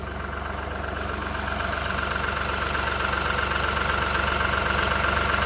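A tractor engine idles steadily beside a paddy field, giving a continuous low, throbbing hum with no breaks. The sound swells slightly louder after the first second or so.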